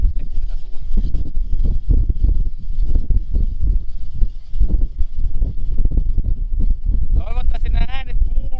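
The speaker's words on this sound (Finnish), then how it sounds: "Armoton tuuli." Relentless wind of about 9–10 m/s out on the sea during perch ice fishing buffets the microphone in heavy low bursts, with a voice speaking near the end.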